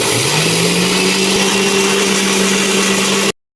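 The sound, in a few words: mixer grinder grinding jamun shots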